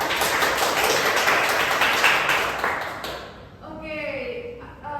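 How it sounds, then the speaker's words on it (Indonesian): Classroom applause, a dense steady patter of many hands clapping together for about three seconds, then fading out as a voice begins speaking. "Tepuk tangan dong buat kalian."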